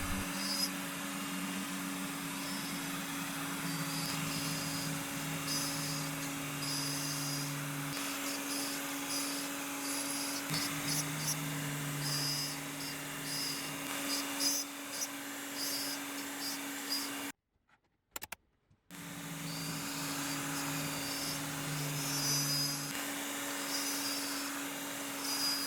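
PantoRouter cutting inlay faces on a wooden mallet head, a steady loud router whine with a constant hum, shifting slightly as the cut progresses, briefly stopping near the end before resuming.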